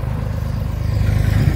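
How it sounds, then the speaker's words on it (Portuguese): Valtra 950R tractor engine rumbling at close range with a low, pulsing diesel throb that grows slightly louder as it pulls away on a farm. "E olha aqui o nosso trator, tá? Tava aqui também, pessoal, trabalhando aqui, o Valtra, a 950R."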